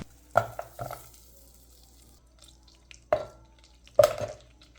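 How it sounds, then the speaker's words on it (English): Butter and chocolate warming together in a saucepan over low heat, with a handful of separate spoon strokes and light knocks against the pan between stretches of near silence. "in a saucepan on low heat, add half a cup butter and 200 grams chocolate"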